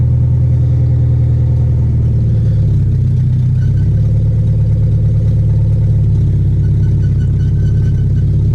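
A Nissan SR20VE engine with an open header revs loudly in a B14, holding a steady, raspy drone that surges and settles back without pause at close range.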